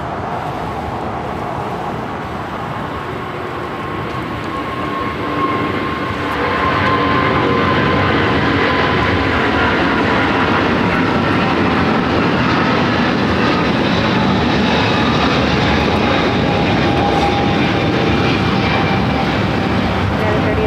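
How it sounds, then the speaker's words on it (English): A United Airlines Boeing 777-200 takes off from LAX bound for Las Vegas, its engines building from a broad rumble to a loud sustained roar with a whining tone; people talk faintly underneath. "This is United Airlines 3807 777-200 taking off to Las Vegas"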